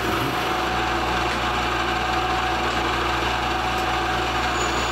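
A CNC machine mills away a lot of material from one large piece of aluminum, giving a steady, loud, continuous machining whine and hum with no pauses and no talk.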